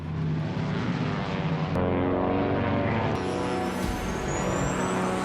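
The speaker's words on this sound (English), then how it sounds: "the plane put just full power to the engines, and it began climbing and shaking a little bit" A propeller airliner's engines roar at full power during a steep climb over mountains, a loud continuous drone with steady harmonic tones and shaking rumble, rising pitch whine late, no talk.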